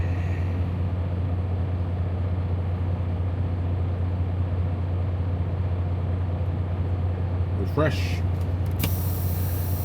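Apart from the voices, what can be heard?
truck trailer air brakes being released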